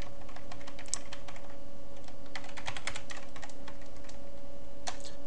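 Typing on a computer keyboard while entering assembly code, a steady patter of close key clicks in irregular bursts with short pauses, no talking.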